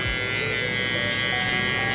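Steady, close electric shaver buzz during a barber's low taper fade, running continuously without a break while the shaver works up toward stubble left by a trimmer; no talking.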